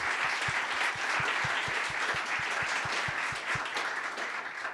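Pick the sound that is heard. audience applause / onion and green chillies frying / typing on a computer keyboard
audience applause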